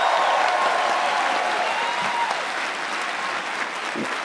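A crowd at a university campus event breaks into a sustained round of applause, dense and steady for several seconds with faint cheering mixed in.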